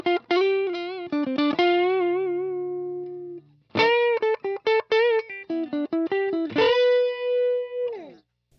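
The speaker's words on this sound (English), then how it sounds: "Do some split coil sounds." Split-coil electric guitar through a Nux Ace of Tone dual overdrive pedal, with bright, lightly driven licks, quick bends and vibrato notes in short phrases separated by pauses, ending on a held, wavering note, close and unaccompanied.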